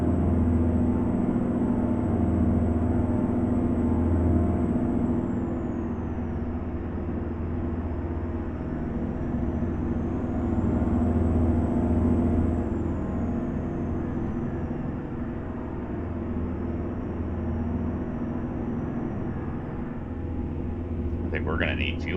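An International 9800 CabOver truck engine in American Truck Simulator drones at high revs, a steady low roar with a thin whine that rises and falls. A voice talks over it.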